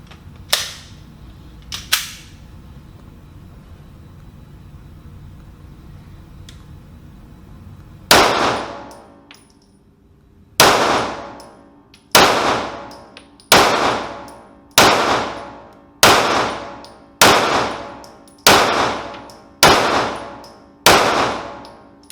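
A BRG9 Elite 9mm pistol fires ten sharp, loud shots in an evenly spaced string, each crack ringing off with a short metallic decay, after a couple of earlier isolated pops and quiet handling.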